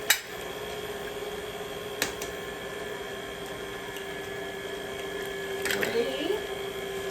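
An electric mixer beats plum cake batter while eggs are added one at a time, giving a steady motor whine with a few sharp taps and knocks against the bowl.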